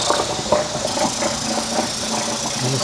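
A Mercury 3.3 HP outboard boat motor idling, a steady close rattling putter with a continuous mechanical drone and no voices.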